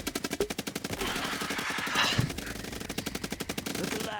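Rapid automatic gunfire rattles in long sustained bursts while fighters shoot at fire bugs, a dense mechanical stream of shots with a brief shout or impact partway through.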